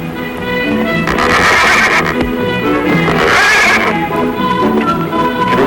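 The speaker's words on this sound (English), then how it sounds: "The mare that leads the wild horses." A wild mare gives a loud, close whinny, rising and falling over several seconds, with a second shrill neigh following.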